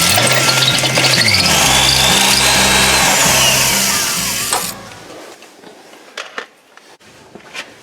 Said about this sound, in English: Now with your holes drilled